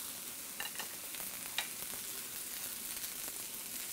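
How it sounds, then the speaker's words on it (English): Pad thai noodles sizzle steadily in a hot wok over cooking egg, a constant bright crackle with a couple of sharp spatula scrapes and clinks, near and without talk. "And now I'm gonna just push all these noodles over the egg."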